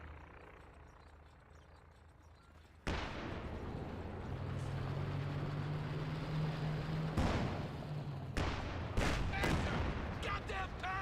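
Heavy .50 cal machine gun fire in a Company of Heroes 2 battle, bursts of loud gunfire and impacts layered over constant combat rumble, with sharp reports clustered in the second half.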